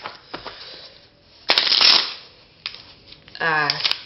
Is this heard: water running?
no